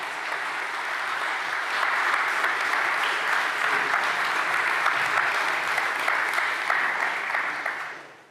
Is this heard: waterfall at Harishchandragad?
no